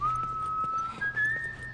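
A character in The Last of Us video game whistles one long steady tone that then steps up to a slightly higher note, clear and close, with faint clip-clop hoofbeats behind it.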